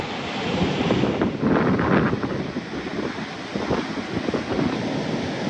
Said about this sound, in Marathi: ही मोठी लाट बघा आता जोरात कोसळणार आहे